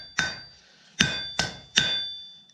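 A hammer strikes hot steel while a hoof pick is forged, four sharp ringing clangs with metallic overtones, spaced irregularly and close, each decaying briefly, with no talk.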